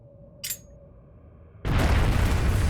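A bomb goes off in the video game Trails of Cold Steel: a short burst, then a sudden loud, sustained rumbling blast that fills the rest of the moment.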